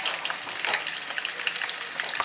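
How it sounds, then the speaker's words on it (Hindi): Onions sizzle loudly alongside a cinnamon stick in hot butter for a karahi daal, a dense, close crackle with frequent small pops and no voices. "और इसके साथ ही मैंने इसके अंदर प्याज भी डाल दिया"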